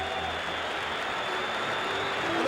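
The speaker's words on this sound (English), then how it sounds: "I think this whole stadium is standing now and applauding." A baseball stadium crowd of about 55,000 Milwaukee Brewers fans on their feet applauding, a thick, continuous wash of clapping and crowd roar holding steady and swelling slightly toward the end.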